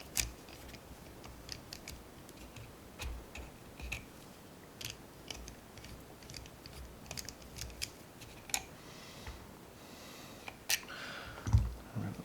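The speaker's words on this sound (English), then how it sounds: "Just take off the screws." Screws come out of the small plate at the bottom of a GSG-16 rifle's pistol grip, faint scattered ticks and light metallic clicks spaced irregularly across a quiet background.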